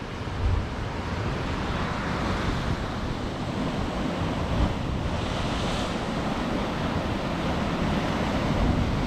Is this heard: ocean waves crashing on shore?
yes